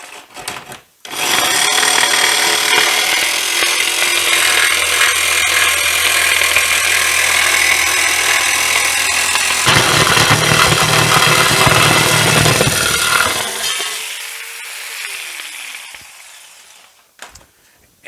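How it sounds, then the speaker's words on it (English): A Bosch jigsaw cuts a circle for a homemade chicken plucker built from a washing machine, running loud and continuous for about twelve seconds with a shift in pitch partway through, then winding down and stopping. "that's why I have this jigsaw"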